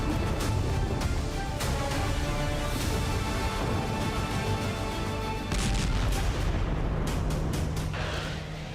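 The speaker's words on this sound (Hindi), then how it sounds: "शहर की एक सड़क पर रूस का ड्रोन गिरने से जबरदस्त विस्फोट हुआ।" Heavy blast noise and rolling booms after a Russian drone crashed onto a city street in Siemiatycze, Poland, loud and dense throughout with repeated sharp cracks and a surge of rumbling midway.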